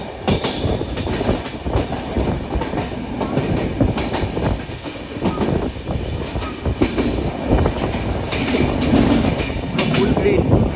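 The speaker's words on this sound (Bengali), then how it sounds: "আমাদের ট্রেন এসে পৌঁছালো যাত্রাপথের প্রথম স্টেশন বিধাননগর রোডে" The Uttarbanga Express train, Kolkata to Darjeeling, runs along the tracks past Dum Dum Junction with loud, continuous rumbling and rhythmic clickety-clack of wheels over rail joints, heard close from on board.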